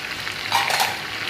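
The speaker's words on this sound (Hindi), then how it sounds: "ये अब इसके अंदर अदरक लहसुन डालते हैं" Ginger garlic paste sizzles steadily in a hot pot of oil while chicken pulao is being made, with a brief louder burst of crackling midway through.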